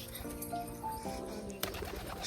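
Domestic pigeons coo softly at a village pigeon loft, giving a few low murmuring calls over quiet background noise, followed by a faint rustle.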